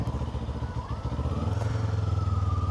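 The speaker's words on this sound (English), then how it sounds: "I'm going to shift into sport, sport ride mode, and then first gear." Kawasaki Ninja 7 Hybrid motorcycle in sport ride mode, steady close idle engine hum with a clunk as it drops into first gear, rhythmic pulsing and no talking.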